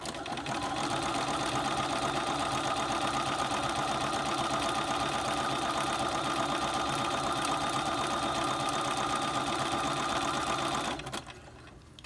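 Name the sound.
sewing machine stitching elastic casing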